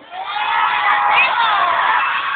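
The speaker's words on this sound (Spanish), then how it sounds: "Vamos, aplausos para la participante número 1." A live crowd at a dance competition cheers and shouts for the first contestant, a loud, continuous roar with high whoops and children's voices rising in the middle.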